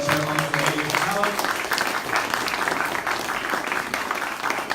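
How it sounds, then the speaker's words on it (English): Applause from a crowd at a political rally, a dense steady clatter of clapping throughout, with a voice briefly audible at the start. "Let's give another round of applause for Deputy Chair Ona Zane Yeshitela"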